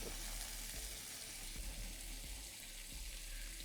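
Fish fillet sizzling steadily in a hot pan just after being flipped from its grilled skin side, a dense continuous hiss with faint low clicks and bumps beneath, fairly close and unbroken, no voices.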